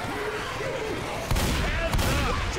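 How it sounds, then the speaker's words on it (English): Gunfire in Left 4 Dead 2, two sharp booming shots in quick succession after a stretch of quieter game ambience. "I was shooting the boomer"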